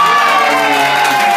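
Party guests at a birthday party cheer and shout for a contest winner, a loud, dense burst of crowd voices and whoops close by.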